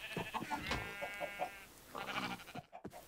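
Sheep bleating in the Minecraft video game, several short wavering bleats close up in quick succession, then a brief pause before more calls.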